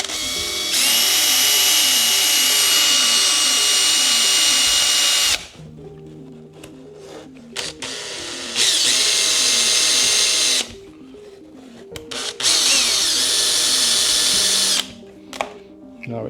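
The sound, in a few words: power drill drilling through RC car body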